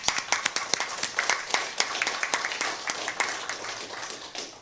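Sparse applause at a city council meeting, a smaller group clapping with distinct individual claps heard separately, moderately faint.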